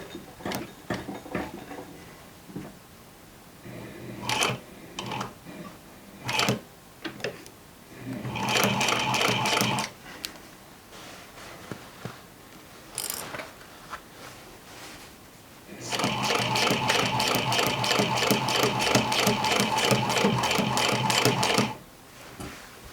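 A sewing machine stitches jeans in short bursts with clicks and handling noises between, then runs in one long steady stretch near the end.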